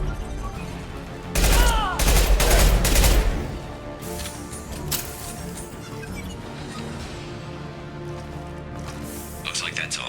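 Impact shot gunfire in Mass Effect 2: a loud burst of crackling shots and blasts lasting about two seconds, then settling into quieter combat ambience with scattered sounds.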